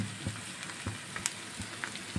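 Chopped green chili pieces sizzling in hot oil in a pan, a quiet steady frying hiss broken by small pops and crackles, with no talking.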